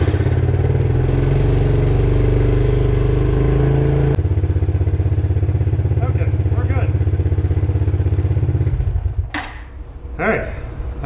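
A Suzuki King Quad 300 4x4 ATV engine runs loud and close with a steady, throbbing drone. Its tone shifts around four seconds, and the engine cuts out near nine seconds, followed by a couple of brief sputtering bursts.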